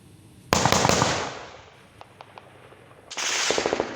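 Gunfire from fighting in Bamenda: a rapid burst of several sharp cracks, then a few scattered single reports, then another dense volley. The shots are loud and close, with no talk.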